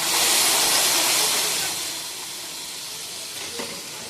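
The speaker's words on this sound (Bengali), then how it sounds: "এবার পটলের আলুগুলো ভেজে নিচ্ছি" Potatoes frying in a pan for a large festival feast, a loud, dense hiss and sizzle that is strongest at first and then settles a little, steady and close throughout.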